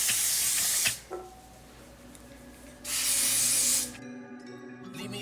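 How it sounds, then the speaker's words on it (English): An aerosol can sprays in two close, loud hissing bursts of about a second each, separated by a pause with faint background sounds. "I'm gonna spray this and basically just do my ball cap"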